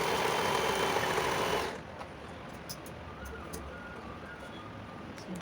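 A sewing machine runs steadily for under two seconds while stitching the armhole side of a lined blouse, then stops, leaving quiet room tone with a few faint clicks.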